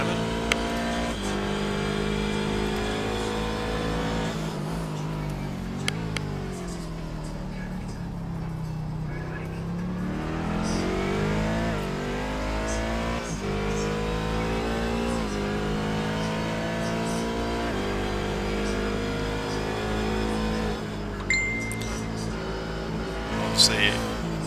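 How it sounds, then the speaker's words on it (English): A Daytona Prototype race car engine heard onboard during a race, loud and continuous, revving up and down through gear changes, with commentary spoken over it. "Just jump on board with Aaron, our race leader, and just see how comfortable he's actually doing it at the moment"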